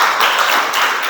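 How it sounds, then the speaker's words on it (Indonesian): A classroom of students clapping for a classmate, a dense, steady patter of many hands close by, lasting about a second with no talking. "beri tepuk tangan untuk Betty"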